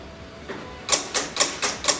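A vinyl cutting machine cuts smooth heat transfer vinyl, giving a faint hum and then about five quick, evenly spaced whirring bursts as the blade carriage moves back and forth.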